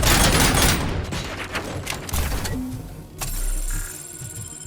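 Heavy gunfire in the RoboCop: Rogue City shooter during a prison riot, dense overlapping volleys of shots loud up front, then thinning into scattered bursts and booms.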